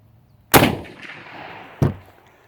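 An old Gew 98 bolt-action rifle, over a century old, fired with PPU ammunition outdoors: two loud, sharp reports about a second apart, each trailing off in a rolling echo.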